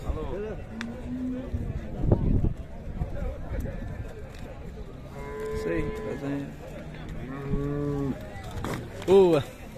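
Cattle moo repeatedly at a livestock fair in Buíque, Pernambuco, near and loud, mixed with someone talking over the lowing and faint hoof steps in the pen.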